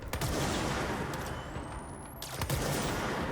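Gunfire in the Control video game: a dense rattle of shots with sharp loud bursts at the start and again near the end, set against a continuous noisy combat background.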